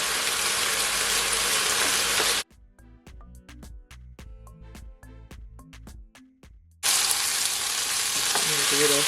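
A beef and onion stir fry, Chinese-takeout style, hisses loudly in a hot pan after more than ten minutes of cooking. The steady sizzle cuts out midway for a stretch of sparse clicks and tones, then returns just as strong.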